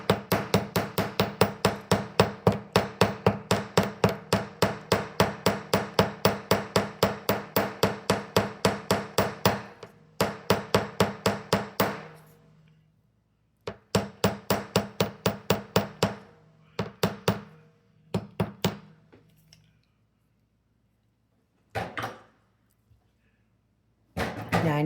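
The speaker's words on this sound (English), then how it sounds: "So now what I'm going to do is I'm going to hammer the bail." Hammer blows flattening the bail of a wire-wrapped earring, a rapid, steady run of close, sharp metallic taps that breaks off, then resumes in shorter bursts and scattered single strikes with pauses between.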